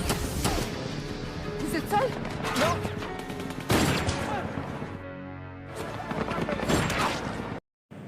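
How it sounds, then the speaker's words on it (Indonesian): Sniper and gunfire shots in an action film about snipers fighting terrorists, sharp bursts and impacts crashing among a loud chaotic mix while a voice speaks over much of it. "Kapten Andre yang melihatnya langsung melepaskan tembakan jitunya."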